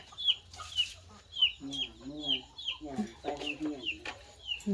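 Chickens cluck at dawn, with repeated short calls close by and a rooster among them, while people talk intermittently underneath.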